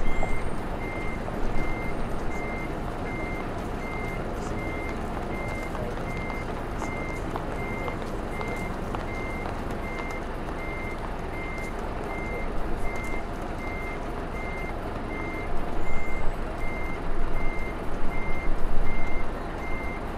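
A DAF 95 truck in Euro Truck Simulator 2 sounds evenly spaced reversing beeps over a steady diesel engine drone while it parks. Air-brake hiss and louder bursts come near the end.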